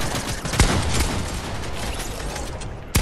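Rapid bursts of gunfire from a Fortnite match, with two sharp louder shots standing out against a dense, continuous background of distant shooting and battle noise.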